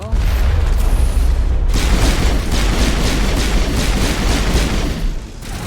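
Rapid pistol gunfire from the video game Mass Effect Legendary Edition: a dense, loud burst of shots and booming impacts running steadily for several seconds, with no talking.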